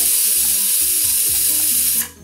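Onions sautéing in a pan with salt for a fish biryani make a loud, bright, continuous sizzle right up close, then cut off sharply near the end, with no voices.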